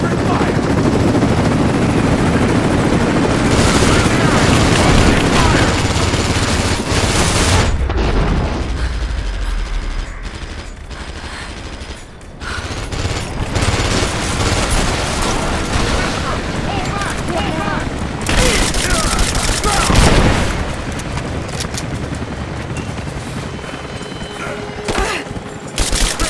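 Gunfire in Rise of the Tomb Raider: dense, loud bursts of shooting with whirring machinery and aircraft-like rumble underneath, continuing through the clip, with talk mixed in.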